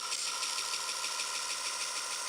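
A Buck Tool 2x42 variable speed belt grinder runs steadily, giving a continuous, fairly quiet mechanical whir with a faint regular pulsing and no voices.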